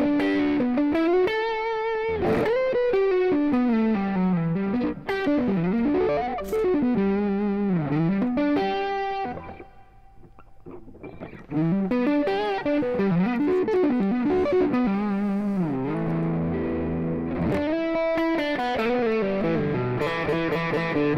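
An electric guitar through a Joyo Maximum overdrive pedal, its tone knob turned down, plays a melodic line in a gritty overdriven tone, sustained notes bending and sliding, with a brief quieter pause midway and no talking.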